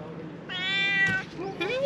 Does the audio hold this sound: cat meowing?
yes